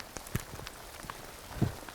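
Hail falls in the Idaho wilderness under a spruce tree in August, a steady faint patter of scattered ice pellets striking surfaces close by, with a couple of sharper impacts.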